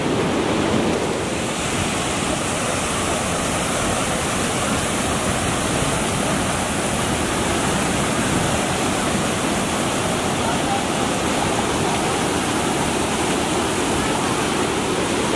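A small mountain stream near Badimalika Temple in Nepal rushes with a loud, continuous broadband roar that stays steady throughout, close by and without any break or clear voices.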